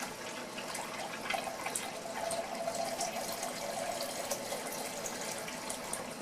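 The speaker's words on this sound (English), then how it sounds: "put it in this little vessel here, and add a cup of water to it." Water runs and splashes steadily into a small container, a continuous trickling pour with faint gurgles, moderately quiet and close.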